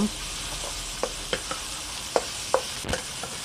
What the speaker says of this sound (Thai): น้ำมันร้อนแล้วเอาพริกกับกระเทียมที่เราตำลงไปค่ะ ไปผัดให้หอม